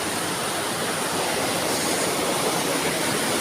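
Fast river water rushes through Kaklık Cave in a steady, loud, broadband roar, close by and unbroken, with no voices over it.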